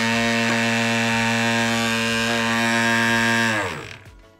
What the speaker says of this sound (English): Does your Ninebot Segway scooter sound like this?